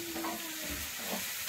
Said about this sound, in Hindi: चावल जो भिगाए हैं उसे भी थोड़ा हल्का फ्राई करना है इसे मसालों के साथ